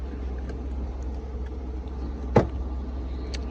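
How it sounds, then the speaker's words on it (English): A Buick 3800 engine idles high on a cold start in snowy weather, a steady low rumble with a single sharp click midway and faint ticks. "The Buick is still rather high on idle."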